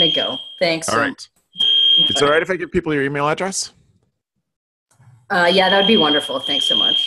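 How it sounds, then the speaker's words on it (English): A fire alarm beeps loudly and continuously at a steady high pitch, sounding under people talking for most of the time, with a brief pause before it resumes. "And that's my fire alarm."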